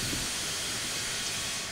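Steam hisses steadily and loudly from the open cylinder cocks of a Union Pacific Big Boy steam locomotive in Train Simulator 2021, a continuous broadband rush with no break.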